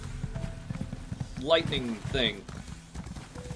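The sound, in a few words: horse hooves clip-clopping in a video game, Elder Scrolls Online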